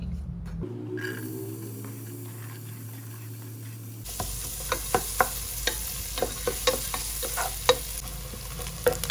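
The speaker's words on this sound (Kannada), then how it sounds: "ಒಂದು ಕುಕ್ಕರ್ಗೆ ಮೂರಿಂದ ನಾಲ್ಕು ಸ್ಪೂನಷ್ಟು ಎಣ್ಣೆ ಸಣ್ಣಗೆ ಅಂತ ಈರುಳ್ಳಿ ಹಾಕ್ತಾ ಇದ್ದೀನಿ" Finely chopped onions fry in three to four spoons of oil inside a pressure cooker. After a quieter humming start, a loud, bright sizzle takes over, punctuated by repeated sharp clicks of a stirring spoon.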